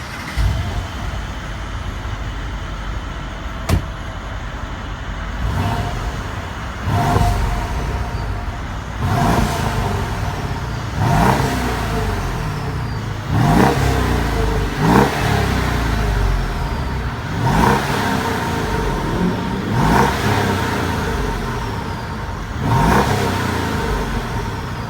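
A Mercedes-Benz SL550 with a 4.7-liter bi-turbo V8 idles nearby and is blipped repeatedly, with a regular series of sharp revs rising and falling over its rumbling idle.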